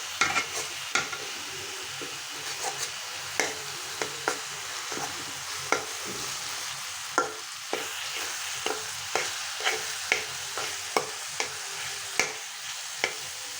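Leafy greens being stir-fried for shak bhaji, a steady close sizzle broken by regular scraping knocks of a spatula against the pan, with no one talking.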